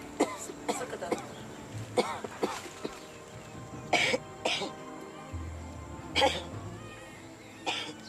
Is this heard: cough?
yes